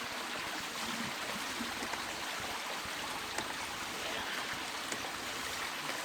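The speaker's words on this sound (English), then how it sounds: "And it's sucking out the sand" Water rushes steadily in a stream as a hand suction dredge draws sand and water through its nozzle, a constant broad hiss and gurgle with faint knocks.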